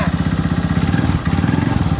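TMX Supremo motorcycle idling close by, its single-cylinder engine thumping in a fast, even pulse after a new rocker arm was fitted, with voices chatting over it.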